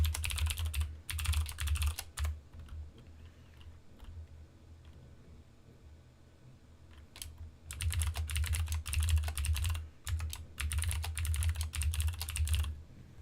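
Fingers type a new password on a computer keyboard, with bursts of rapid, close key clicks separated by pauses of quiet, and a low hum underneath.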